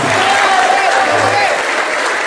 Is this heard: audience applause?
yes